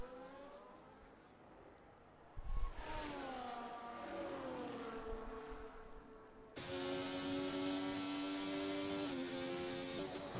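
A Ferrari Formula 1 car on a flying lap at the Bahrain Grand Prix in a racing game, its engine whining high and steady, dipping at a gear change, then climbing through the revs at full throttle.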